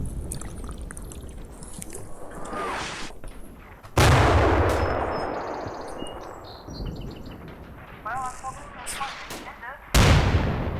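Artillery and mortar spotting rounds land in Combat Mission Red Thunder at the Seelow Heights battle, loud sudden booms at intervals with long rumbling decays, mixed with bird calls and game radio chatter.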